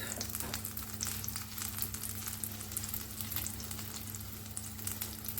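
A Jerusalem artichoke mixture fries in butter in a pan with a dense, continuous crackling sizzle and scattered spattering pops. The sound is close and fairly soft over a low steady hum, with no speech.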